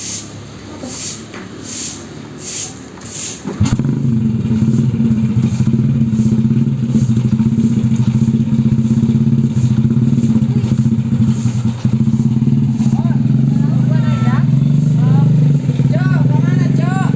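A motorcycle engine runs steadily with a low, continuous drone that starts abruptly and holds loud throughout, under scattered talk and some clattering.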